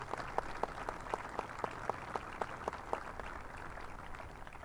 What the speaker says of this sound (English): Again, Dr. Ronnie Bradshaw, would you recognize him with your applause?